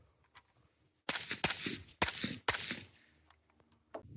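Three suppressed rifle shots through a CMMG Zeroed 5.56 suppressor, each a sharp muffled crack with a short decaying tail, evenly spaced about half a second apart, close and loud against a quiet background.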